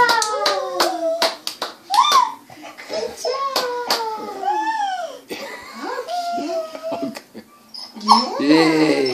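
A small child claps hands in short bursts of sharp claps, mixed with high excited voices and adults talking close by in a home setting.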